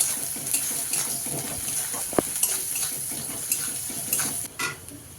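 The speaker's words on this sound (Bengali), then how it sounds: "লবণটা দিয়ে আমি কিন্তু পেঁয়াজগুলোকে না সুন্দর করে লাল লাল করে ভেজে নেব।" Salted onions fry in oil in a pan with a soft, steady hiss. Occasional light clinks of a utensil against the pan break through the sizzle. No speech.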